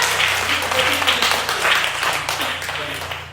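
An audience applauds at a children's gathering with the regent of West Nias, a steady wash of clapping that runs the whole time under a low hum and murmured voices.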